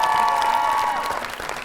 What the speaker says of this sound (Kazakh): Не деген шапалақ мынау?